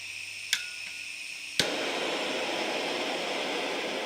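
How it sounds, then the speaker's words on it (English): Gas torch flame used for enamelling glass beads, turned up with a click and then settling into a steady, fairly loud broadband hiss that continues without pause to the end. "I'll open my gas up a little."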